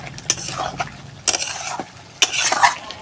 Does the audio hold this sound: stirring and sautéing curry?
yes